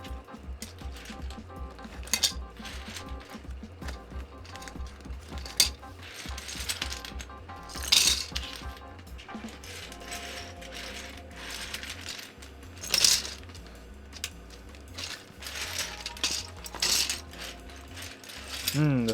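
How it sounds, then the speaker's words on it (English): Typing on a KBD67 keyboard fitted with Zilents switches, its keycaps clacking in an irregular, fairly close patter of quick taps with occasional louder strikes. "The sound of keycaps."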